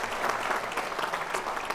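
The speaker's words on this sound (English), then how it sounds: "Massive round of applause" A convocation audience gives a round of applause, a short burst of thick, steady crowd clapping heard at close range.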